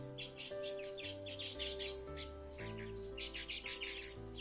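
Bright, rapid chirps and tweets from several small birds sound in quick bursts over soft instrumental music.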